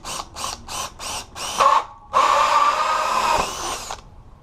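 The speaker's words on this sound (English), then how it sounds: "I'll just go ahead and use our hole saw to drill a hole through it." A hole saw bores through a scrap piece of plywood: several short bursts of drilling, then one steady, loud grinding cut lasting about two seconds, with the motor winding down at the end.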